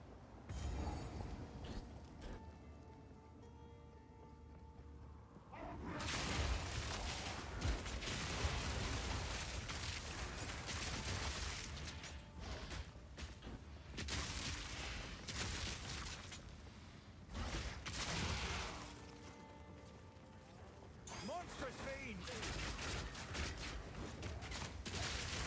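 Dense Path of Exile 2 combat with crossbow bleed attacks and armor explosions: rapid mechanical clicks, bursts and crunching impacts layered over a game score, surging and easing in waves.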